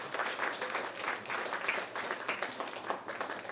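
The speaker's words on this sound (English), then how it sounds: "Give yourselves a round of applause for just being here," Audience applause at a National Day of Service volunteer event held by the SEWA DC Chapter with AmeriCorps: dense, steady clapping from a crowd, sustained without a break and moderately loud throughout.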